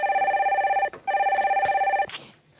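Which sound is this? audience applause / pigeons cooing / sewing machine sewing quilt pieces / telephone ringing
telephone ringing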